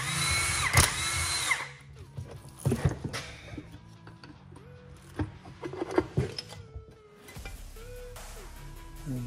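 Power tool whirring in short bursts as it takes bolts off a John Deere LT180 hydrostatic transmission, close by, with clanks and handling noise between runs.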